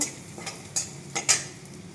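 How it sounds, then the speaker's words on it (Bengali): Garlic frying in a pan for a green banana dish, with a soft sizzle beneath a few light clinks and scrapes of a stirring spoon against the pan. "রসুনটা ভেজে নিয়েছি ভালো করে"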